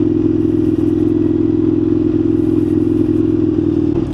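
An Indian FTR1200 motorcycle rides off-road, its engine holding a steady, loud, close droning hum with faint clatter from the terrain and no change in pace.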